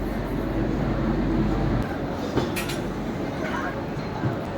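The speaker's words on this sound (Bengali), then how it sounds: "একদম সঠিক সময় ছেড়ে দিচ্ছে আমাদের ট্রেন।" The Sealdah–Puri Duronto Express (22201) departs, rumbling along with a steady low roar, a few faint clanks and thuds over the constant rolling noise, with voices faintly in the background.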